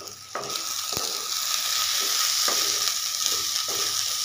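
Ginger-garlic paste fries and sizzles in a pan with a steady hiss, and a spoon scrapes and stirs it several times.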